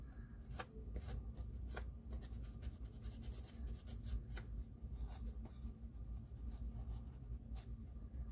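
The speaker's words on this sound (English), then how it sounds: "Let me really clean off this pad with alcohol." A cloth with alcohol scrubs the pad of a Dual CS-616Q turntable, producing quiet, close, scratchy rubbing strokes in an uneven rhythm over several seconds.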